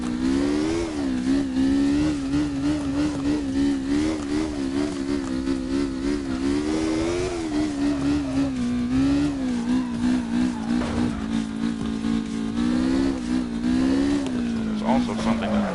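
Loud, steady engine drone with pitch wavering as the drifting car in CarX Drift Racing slides, tyre noise mixed in, with someone talking over it throughout.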